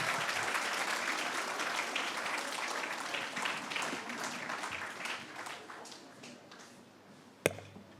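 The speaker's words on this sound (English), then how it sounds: "Let's welcome him with a round of applause." An audience at a poetry event applauds to welcome a speaker, a full round of clapping that thins and fades over several seconds before a single sharp knock near the end.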